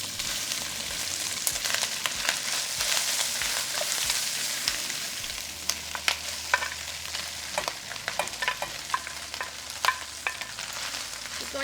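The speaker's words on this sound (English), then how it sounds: "Going to lightly fry it for 5 minutes." Meat frying in hot lard in a pan, a steady close sizzle with sharp pops and crackles scattered throughout, and occasional stirring scrapes.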